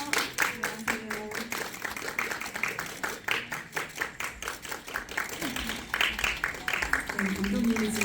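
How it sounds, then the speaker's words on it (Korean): Audience clapping and applause at a Korean film press conference as the director and actors come on stage, scattered claps running throughout while a host speaks over them. "여러분 큰 박수로 맞아주십시오."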